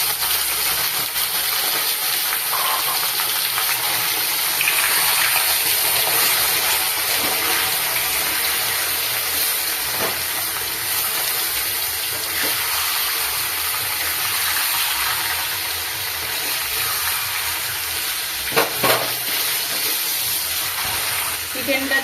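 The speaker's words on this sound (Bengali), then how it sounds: "পেঁয়াজটা ভাজা হয়ে গেছে, বাদামি কালারের হয়ে গেছে। চিকেনটা ঢেলে দেবো।" Chicken poured into a pan of browned fried onions for Bengali chicken kosha, a loud, dense, steady sizzle and hiss that runs throughout with a few small clinks and stirring sounds.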